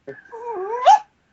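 A dog lets out a short, close whining whimper that bends in pitch and rises into a brief yip with a growly edge, with no talk over it.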